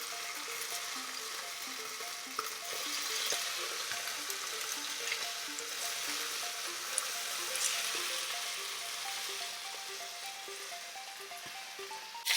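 Pork chops browning in a frying pan for a Chinese pork chop recipe, with a steady, close hiss of sizzling oil and occasional soft pops, heard alone without talk.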